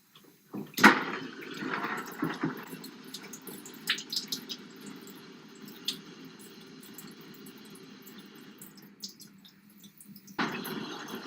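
Water from a tap or hose rinses soap out of a screen-printing screen, a hissing splash that runs steadily for several seconds with small drips and splashes, then stops briefly before the flow starts again.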